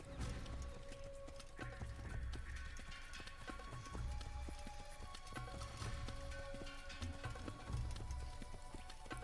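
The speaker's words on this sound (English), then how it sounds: "I'm just walking my horse behind your camp." Horse walking in Assassin's Creed (2007), steady clip-clop hoofbeats at a walking rhythm alongside game ambience and scattered rain-like patter, fairly quiet with no talking.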